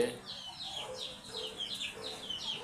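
A hen in a farmyard flock, with a rooster among them, clucks in a quick repeated series of soft, rhythmic calls at moderate distance, amid low outdoor background noise.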